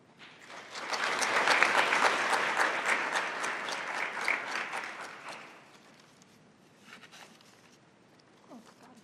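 An audience at a National Business Honor Society event claps loudly to welcome a speaker to the podium, swelling fast, holding for several seconds, then fading to a few scattered claps and rustles.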